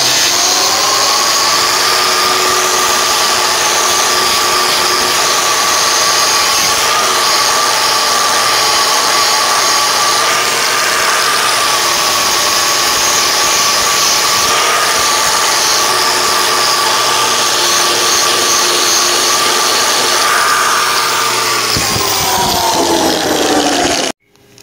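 A power polisher buffing a metal part, a steady loud motor whine that holds evenly for the whole stretch and then cuts off abruptly at the end, with no speech.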